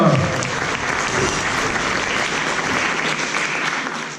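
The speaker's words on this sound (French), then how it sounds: "Merci Zacharia, on l'applaudit bien fort, merci à toi." Audience applause at a Christmas-tree party magic show, a dense, steady burst of clapping from a crowd that fills the room for several seconds, loud and continuous with a few voices mixed in.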